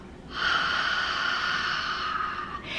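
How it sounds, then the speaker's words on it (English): One long, breathy exhale through the mouth, close and airy, lasting a couple of seconds before tapering off. "And exhale through the mouth."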